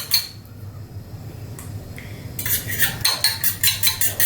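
Eggs whisked in a bowl with a utensil, first a quieter stretch then brisk rapid clinking strokes against the bowl in a quick steady rhythm, close and fairly loud, with no talking.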